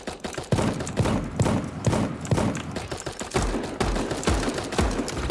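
Rapid bursts of shotgun fire from a video game, a dense run of sharp, loud blasts repeating in quick succession with no pause, close and heavy.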